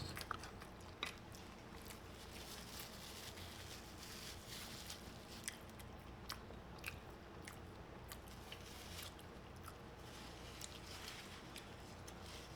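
Someone eats Wendy's fries close to the microphone in a mukbang. The chewing and biting run steadily as soft, moist crunches throughout, with no talking.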